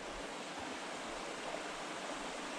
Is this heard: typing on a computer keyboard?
no